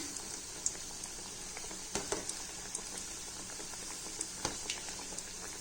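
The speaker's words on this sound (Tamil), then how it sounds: "இதுவும் கொஞ்சம் நேரம் சிம்லேயே நல்லா ஃப்ரை ஆகட்டும்" Wheat badusha frying slowly in oil over low heat, a soft steady bubbling with faint scattered pops and crackles, quiet and close.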